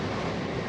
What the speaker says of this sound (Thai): ทางนั้นเครื่องบินออกให้บินขึ้นเนาะ